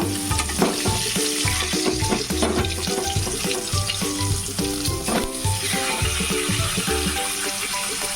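Katla fish pieces frying in a pan with onion, garlic, fennel and black cumin, a continuous close sizzle with occasional stirring and clinks, steady and loud throughout.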